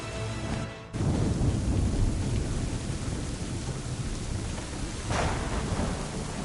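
Video game thunderstorm at sea in Assassin's Creed 3: heavy, steady rain roars from start to finish, broken by a brief drop near the start and a sharp thunder crack toward the end.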